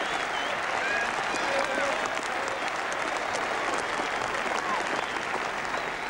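A packed Saturday afternoon cricket crowd applauds Ian Botham's stroke play during the 1981 Ashes against Australia, steady dense clapping and crowd noise filling the whole stretch evenly, with faint whistles or calls above it.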